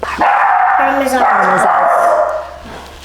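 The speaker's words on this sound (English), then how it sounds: "excuse the dog. Someone's just at the door and he is barking." A dog barks at someone at the door during cooking in a home kitchen, a loud nearby bark and yelping whine mixed with a person speaking over it.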